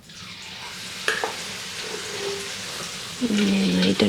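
Hot oil sizzles steadily in a pan as achappam batter is tested with the mold, a continuous frying hiss with a few sharp clinks and a rising crackle near the end.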